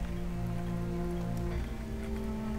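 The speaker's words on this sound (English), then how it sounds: "And it's still raining." Steady rainfall in the zombie survival game Project Zomboid, a continuous hiss of drops pattering on surfaces under a low droning hum, even and unbroken throughout.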